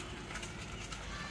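Pigeons in cages after rain, soft cooing and faint bird calls over a steady background hiss, moderately quiet and continuous with no talking.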